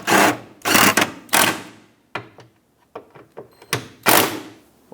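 A tool tightening the grille mounting bracket bolts on a 2009-2014 Ford F-150, several loud close whirring bursts separated by pauses with small clicks and knocks between them.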